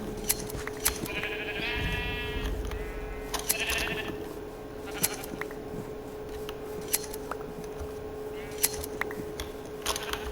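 Sheep bleat several times in the Minecraft video game, short wavering calls heard close by. Sharp clicks and taps run throughout.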